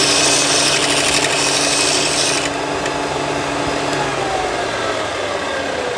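A belt sander whirs loudly with a gritty, rasping hiss that eases slightly partway through, then keeps humming steadily at close range.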